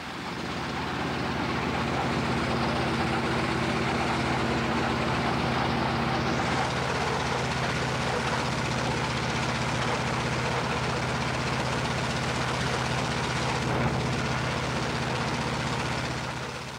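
A restored Fairey Swordfish W5856 aircraft's engine on its first run: a steady, low droning hum held at moderate volume for the whole stretch, with no voices.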